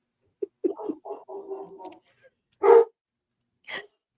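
Dogs bark indoors in a few short bursts: a quick yip, then a cluster of barks, followed by two louder separate barks after a pause, fairly near with quiet in between.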